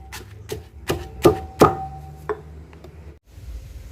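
A series of heavy, rhythmic thuds of food pounded in a mortar, about seven strikes roughly half a second apart, close and fairly loud, then quieter clatter.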